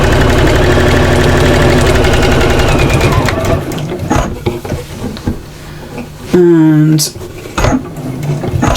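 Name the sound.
sewing machine back stitching bunting seam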